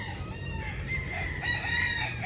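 A fighting rooster crows in a backyard, one drawn-out call ringing fairly close over steady background noise and faint farm sounds.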